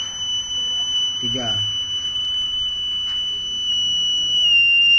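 A small electronic buzzer in a push button circuit with LEDs sounds a steady, loud, high-pitched tone that holds for the whole stretch, with a brief voice speaking near the start.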